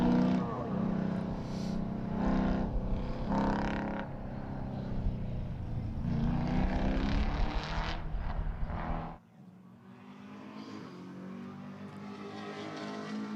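Muscle cars roar up a mountain course in a drag-style shootout, their engines rising and holding a loud, rough, revving drone before cutting off sharply, then a quieter engine note continuing in the distance.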